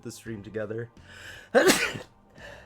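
A single sharp sneeze bursts out after a few spoken words, loud and close, followed by a short quieter tail of breath.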